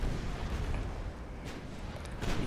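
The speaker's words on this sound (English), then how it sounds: "Let's resume shooting at the guy up front," Rumbling naval gunfire from battleships in the game Ultimate Admiral Dreadnoughts, a dense, heavy low boom texture with a couple of sharper bursts rising out of the roar.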